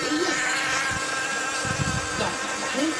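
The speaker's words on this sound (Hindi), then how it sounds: "और इसी तरह से मधुमक्खियों के गुंजन की आवाज भी हम सुनते हैं।" Bees buzz in a steady, close drone with a wavering hum that rises and falls slightly, continuous throughout without any speech.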